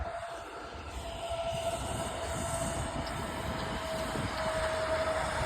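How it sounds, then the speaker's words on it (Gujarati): A freight train rumbles past close by, a steady heavy rolling roar with a faint high whine running through it, no voices. "ભારખાની એટલે માલગાડી આવી ગઈ"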